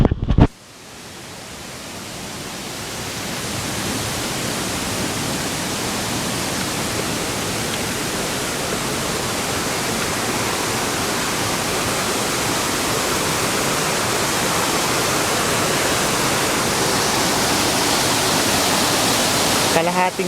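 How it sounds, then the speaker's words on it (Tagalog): Kawasan Falls roars as a loud, steady broadband wash of falling water, continuous and close for the whole stretch after a brief quieter start. "We are now going back to the first falls."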